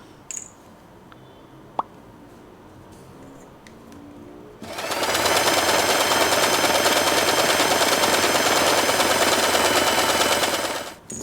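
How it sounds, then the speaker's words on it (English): A sewing machine stitches cotton lace for a satin hair bow in one loud, steady, rapid whir lasting about six seconds, after a few faint clicks and handling sounds. "I will sew the larger cotton lace right here."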